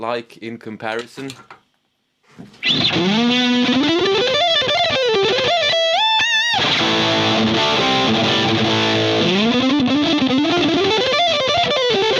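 A heavily distorted electric guitar played through a Fender distortion pedal plays bending, wailing lead lines, loud and sustained, after a brief quiet pause near the start.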